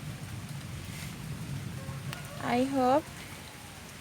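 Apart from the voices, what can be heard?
heavy rain falling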